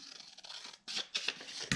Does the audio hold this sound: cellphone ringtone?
no